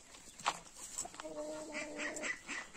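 Soft, faint clucking from a few chickens in the background, with scattered quiet rustling and a brief higher call.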